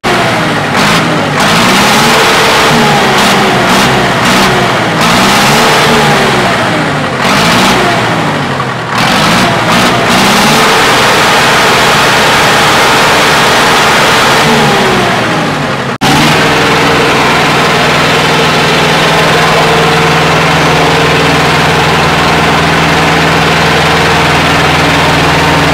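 A modified 5911 tractor engine, tuned to about 70 hp, runs loud and close with rhythmic revving and pulsing throttle changes, then settles into a steady, even drone for the rest of the clip.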